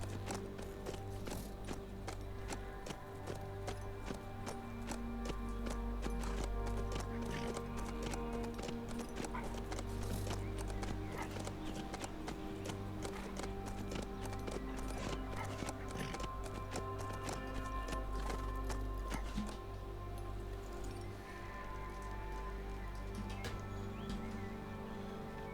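Horse hooves clip-clop steadily in the survival video game HumanitZ, a continuous rhythmic trotting that stays prominent over layered game music and ambience for the whole stretch.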